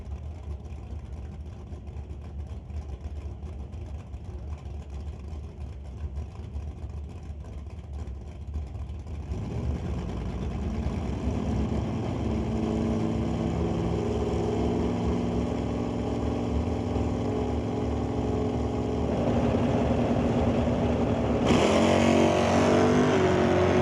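Two drag racing cars, a Malibu Wagon and an S10, idle with a low rumble at the line, then engines swell loudly as they launch and roar away, growing louder toward the end.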